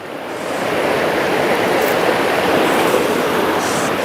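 The Maple River, a blue ribbon trout stream in Emmet County, rushes in a steady, loud, broadband wash of flowing water that holds constant throughout without voices.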